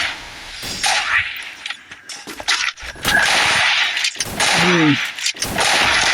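Rapid gunfire bursts ring out during a competitive Counter-Strike tournament match, layered over constant game ambience and a busy, loud mix, with sharp cracks spread across the clip.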